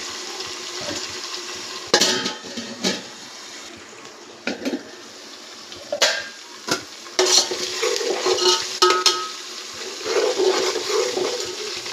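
Chicken biryani masala frying in a pan, a steady soft sizzle broken by sharp scrapes and clinks of a spoon stirring against the metal, close and with no talking.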